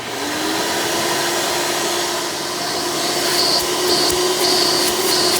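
Hoover Elite Soft & Light upright vacuum, a direct-air model with an upgraded 20-blade fan, running with a loud, steady whine and airy rush, close up and unbroken, with no voices.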